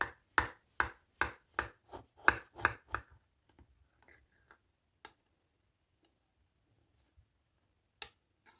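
A knife cuts through a soft apple semolina cake in a quick run of about eight even strokes, each tapping the board, then a few scattered faint taps.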